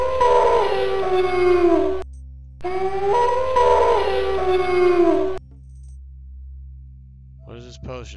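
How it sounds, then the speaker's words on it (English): Wolf howling in the video game TES1 Arena: two long, loud, wavering synthetic howls separated by a short gap, followed by quieter whining chirps near the end over a constant low hum. "And there's a wolf upstairs that won't stop howling."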